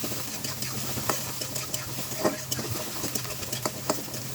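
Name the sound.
frying whole cumin, chopped onion and bay leaf in oil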